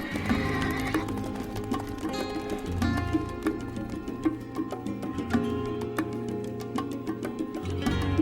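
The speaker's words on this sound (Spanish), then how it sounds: "Caballos utilizados para el transporte y la guerra" Horses, of the kind used for transport and war, whinny repeatedly while their hooves clip-clop in a steady rhythm beneath the calls, fairly close and clear.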